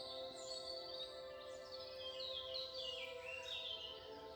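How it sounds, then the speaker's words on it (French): Birds singing in trees, bright chirping and trilling phrases that rise and fall over a faint steady background, quiet and continuous with no talk. "le chant des oiseaux dans les arbres"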